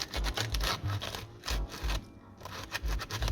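Sandpaper scraping across a shoe surface before gluing with PVC cement, heard as repeated rhythmic rubbing strokes, close and steady, with no talking.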